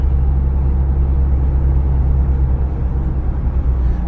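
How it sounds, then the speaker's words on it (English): A Hummer H2 electric vehicle drives past with a steady, loud low rumble and road whir that holds evenly throughout, with no voices. "There comes an H2. The electric vehicle."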